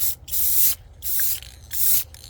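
A spray can lays down matte clear coat in three short, loud hissing bursts separated by brief pauses, with no talking.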